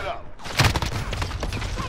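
AUG rifle gunfire in a first-person shooter video game: a few sharp shots with the loudest burst about a third of the way in, followed by more scattered shots.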